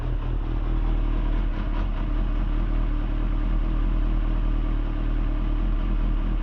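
A 1991 Kawasaki ZXR400 idles close by with the clutch pulled in, a steady, even engine burble with a little light clatter and no one talking.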